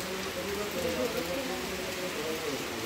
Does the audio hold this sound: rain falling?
yes